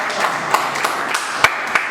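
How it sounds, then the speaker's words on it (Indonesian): A short burst of scattered hand claps from a small group in a math classroom, a handful of sharp claps standing out over a low, steady room background. "kita kasih tepuk tangan buat Derek"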